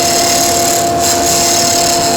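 Wood lathe spinning a pen blank while a roughing gouge cuts along the tool rest, giving a steady, loud whirring hum with a hissing cutting noise that stays constant throughout.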